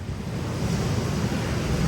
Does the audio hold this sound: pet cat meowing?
no